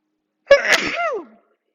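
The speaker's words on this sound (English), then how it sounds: "I'm going to have to sneeze." A single loud, close sneeze with a sharp burst and a drawn-out voiced tail, surrounded by silence.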